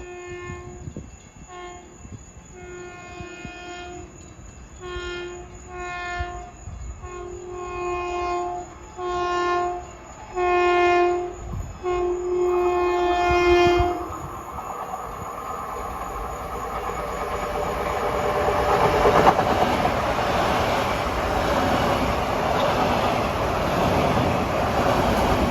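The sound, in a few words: LIRR train passing Farmingdale station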